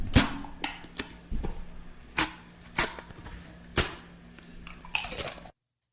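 A Pringles can cap pops open, then chips crunch in a series of sharp, close bites and snaps spaced irregularly over several seconds, with no talking.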